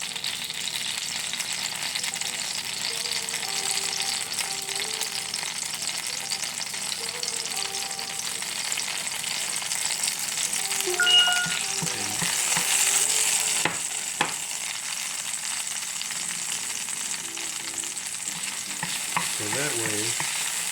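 Beef fries with carne asada in oil flavored with onion, tomato and pepper, giving a dense, even sizzle that runs the whole time, with a few clinks and stirring scrapes near the end and a brief spoken phrase over it.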